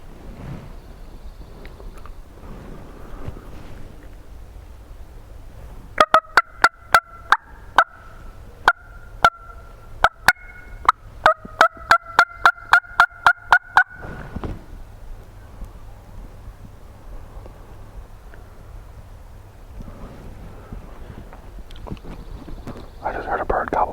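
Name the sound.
wild turkey gobbling in the distance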